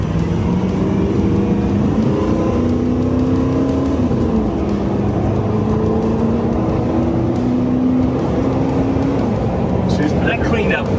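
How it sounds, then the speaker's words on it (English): A turbo-swapped 6.0 diesel truck roars steadily on a dyno for the whole stretch, its engine note climbing and dropping in stages, while voices talk loudly over it. "Let me just do a quick dyno run since I got this all set up"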